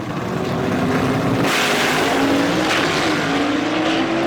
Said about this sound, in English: Great chance to let you hear those big blocks winding right there.